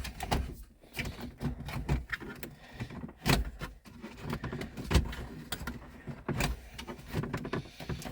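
Interior trim panel on a Ford Mustang Mach-E being pried off during factory audio system removal: a few sharp, close plastic pops and clicks over faint handling noise in the cabin.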